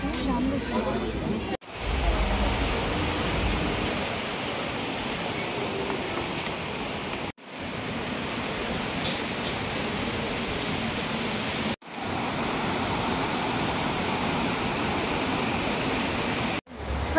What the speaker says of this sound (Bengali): এই ঝর্ণা দেখছি